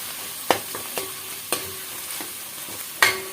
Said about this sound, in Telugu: పుదీనా కూడా వేసుకొని చక్కగా కలిపేసేసుకుందాము